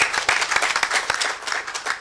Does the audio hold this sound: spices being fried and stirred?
no